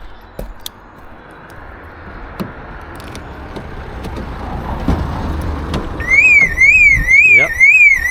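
A 2016 Opel Insignia's car alarm begins after several seconds of quiet outdoor background, a loud, close warbling siren that rises and falls repeatedly until the end.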